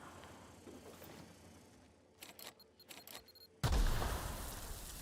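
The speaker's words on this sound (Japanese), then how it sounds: "なんだなんか爆発したけど" A sudden, loud, close explosion bursts out in The Outer Worlds Spacer's Choice Edition, a deep boom with a long rumbling tail, following quieter scattered game sounds.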